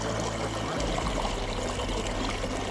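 Water runs from a school tap that children drink from and wash their hands at, a steady, hissing trickle that continues unbroken from start to finish.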